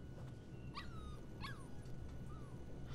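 Mushroom, the puppy from the video game Life is Strange 2, gives three thin, rising whimpers close by over a quiet, steady background hum, with no talking.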